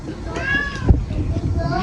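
A white cat gives a couple of short, close meows while being fed cat food, with a voice talking nearby.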